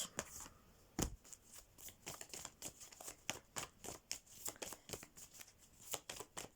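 Tarot cards shuffled up close in a quick, regular series of crisp riffling slaps, fairly faint and without talk.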